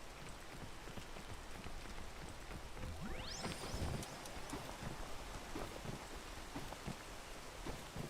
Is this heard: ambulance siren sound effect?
no